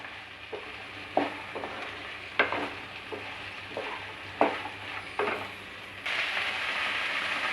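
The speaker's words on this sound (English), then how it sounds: "First 2-3 minutes saute them." Okra sautés in a pan for a masala bhindi fry, with a soft steady sizzle underneath. A spoon stirs it in scattered scraping strokes, and the sizzle rises louder near the end.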